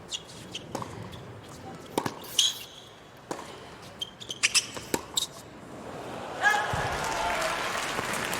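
A New York crowd at a US Open tennis match breaks into scattered bursts of applause and cheering, with sharp sporadic claps and a swelling roar near the end.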